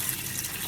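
Tap water runs steadily over thin potato slices being rinsed, a brief, even rushing splash heard alone.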